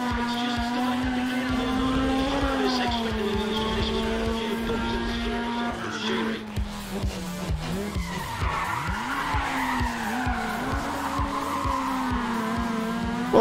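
Race car in the game NFS ProStreet, engine droning steadily then tires squealing and skidding under hard braking, followed by rapid revving and gear shifts, loud and close.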